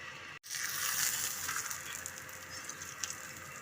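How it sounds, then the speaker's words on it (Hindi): Steady broadband sizzle of a roti-style paratha brushed with ghee frying on a hot tawa, close and continuous with a brief dip near the start, no talking. "ये हमने अपनी तवे पे रोटी डाल दी है। ये अपना हम इस पे घी लगा देंगे, इसे उल्टा देंगे।"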